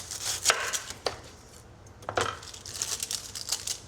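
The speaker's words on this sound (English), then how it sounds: "I'm gonna start off by chopping these ends" A knife chops through a jumbo onion on a cutting board in uneven strokes, sharp close knocks clustered in bursts with pauses between, alone with no voices.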